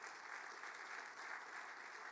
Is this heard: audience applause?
yes